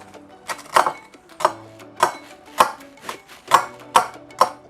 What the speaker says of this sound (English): So take that and a spoon and break them up.